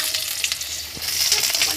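Fried vegetables tipped into hot oil with panch phoron hiss and sizzle steadily, a close, bright crackle of frying with a few soft stirring knocks.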